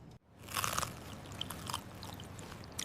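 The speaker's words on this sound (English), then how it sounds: "I take a bite. Wow, it's so crunchy and delicious." Someone bites into a freshly made sandwich that has been cut in half: a crisp, close crunch, then a few softer chewing crunches that taper off over quiet room noise.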